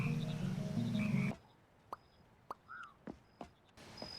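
Soft croaks and plopping blips from cartoon frogs in the frog-breeding game Mudborne, arriving as four or five short separate calls over quiet ambience after a burst of game music cuts off.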